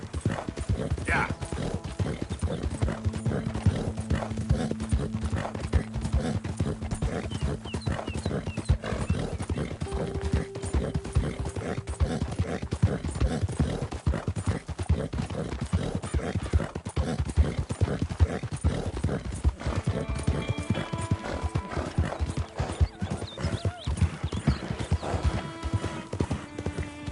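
A horse walking with steady, continuous clip-clop hoofbeats, close and clear, with a brief neigh partway through and a faint voice under the hooves.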